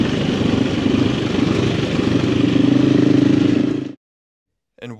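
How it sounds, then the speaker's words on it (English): A Husqvarna FE350 motorcycle rides Portuguese trails with a loud, steady engine drone that swells slightly for about four seconds, then cuts out abruptly, followed by a short burst of sound at the end. "while you are watching me ride the Husky FE350 on these amazing Portuguese trails"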